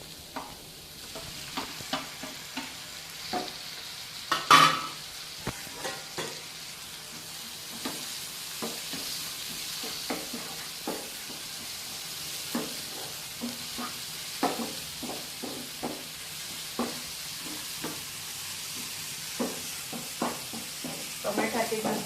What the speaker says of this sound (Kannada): ಈಗ ಆಯ್ತು, ಇದು ಸ್ವಲ್ಪ ಫ್ರೈ ಆಗ್ತಿದೆ